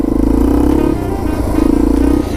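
Yamaha TW200 motorcycle riding through snow, its single-cylinder engine loud and close with a steady throbbing drone that dips briefly and picks back up.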